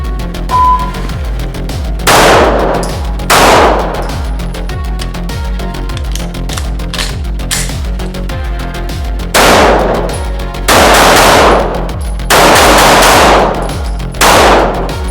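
Rost Martin RM1C pistols firing Norma ammunition let off loud, sharp shots near at hand, coming singly and in quick clusters over a steady background hum.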